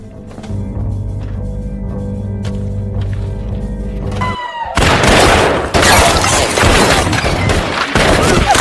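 A gunfire exchange in the film Hell or High Water follows a robbery: a low droning, tense stretch gives way to a loud, dense volley of shots and cracks ringing out in rapid succession.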